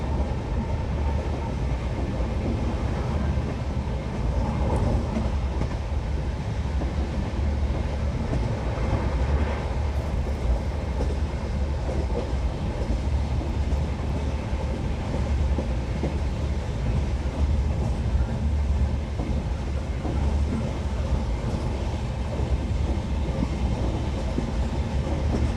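A passenger train on the Ayodhya to Varanasi line runs steadily along the rails, a continuous deep rumble with rattling wheel clatter and no voices, loud and constant throughout.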